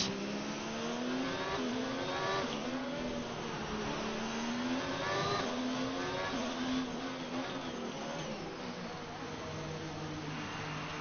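Alfa Romeo Formula 1 car engine in a racing video game, a continuous high revving whine that rises and falls through gear changes, with a commentator talking over it.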